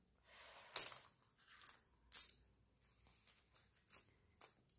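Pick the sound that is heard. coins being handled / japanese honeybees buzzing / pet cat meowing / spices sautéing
coins being handled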